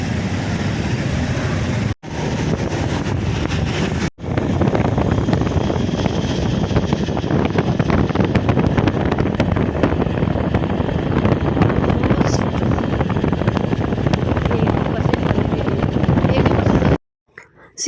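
Loud wind buffets the microphone in a constant roaring rush while riding a vehicle, with a few abrupt cut-outs and rumbling motion underneath.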